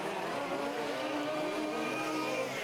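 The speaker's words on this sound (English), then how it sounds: "So these engines working quite hard over this half an hour. They are 28 cc's" Large-scale 4WD RC off-road racing cars with 28 cc engines at an EFRA race, buzzing and whining continuously at steady high revs throughout, a dense layered engine drone with no pause and no talking.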